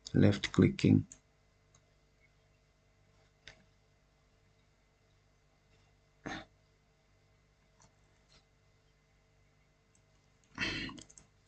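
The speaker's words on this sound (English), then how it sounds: "Keep on left clicking." A computer mouse is left-clicked while tracing boundaries in ArcGIS 10.8, giving a quick cluster of close, crisp clicks at the start, then a few isolated clicks spaced seconds apart over near silence.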